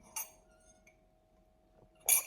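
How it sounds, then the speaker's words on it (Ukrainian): Two faint, bright clinks of a spoon against a cup, about two seconds apart, in an otherwise quiet room. "вийми ложку з чашки"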